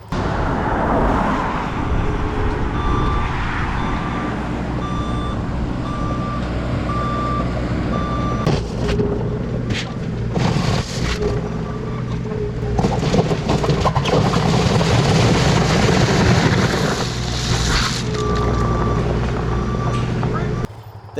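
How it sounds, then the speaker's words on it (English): A road roller compacts the gravel base of a roughly nine-foot-wide driveway before chipsealing, its diesel engine rumbling loudly and its reversing alarm beeping in repeated bursts, with voices briefly heard in the background. "the next thing they did was take a roller and compact all that base down"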